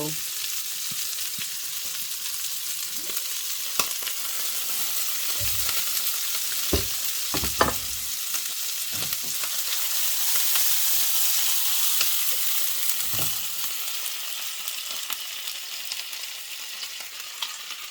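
Steady, dense sizzling of Swedish meatballs frying in a hot pan, with occasional pops and soft clinks of a utensil stirring, close and continuous.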